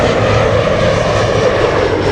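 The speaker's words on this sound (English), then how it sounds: "Joshua, live from LAX, captured Captain Marcos' takeoff." Airliner taking off at LAX, a loud, close roar of jet engines sustained steadily throughout the brief moment, with no voices.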